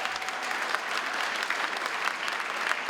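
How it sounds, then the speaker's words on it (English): An audience at a civic and community awards ceremony applauds an award recipient, with sustained, full-room clapping that stays loud and continuous from start to finish. "one more time, a round of applause, ladies and gents, for Nash"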